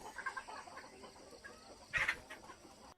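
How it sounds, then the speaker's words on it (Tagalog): Chickens cluck on a farm in the morning, soft repeated clucks with one louder squawk, heard fairly close against quiet outdoor background noise. "Ang manok."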